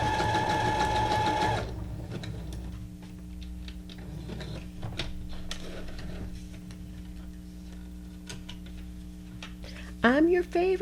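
Sewing machine stitching a zigzag runs fast for about a second and a half with a buzzing motor hum, then stops, leaving soft ticks and handling clicks nearby.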